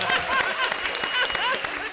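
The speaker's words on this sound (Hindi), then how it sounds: "जोरदार तालियां अरबाज भाई के लिए।" A studio audience at a comedy show applauds loudly, a dense wash of clapping mixed with cheers and crowd voices.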